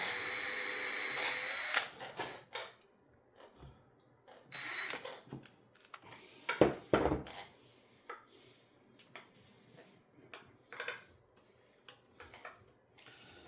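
A power drill runs in short, intermittent bursts with quiet pauses between them, fairly faint and without any talking.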